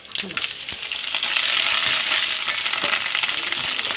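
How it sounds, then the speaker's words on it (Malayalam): Grated coconut fries in hot oil in a pan with mustard seeds, green chilies and curry leaves, a loud, dense and continuous sizzle close by, with a few stirring scrapes near the start. "2 സ്പൂൺ നാളികേരം ഒന്ന് വറുത്തിട്ട്"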